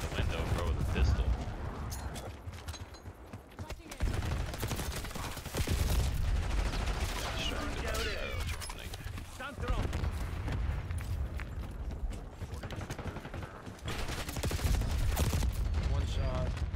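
A gunfight in Call of Duty Black Ops 6, with rapid bursts of automatic fire, single shots and booms in dense clusters. Players talk over the shooting throughout.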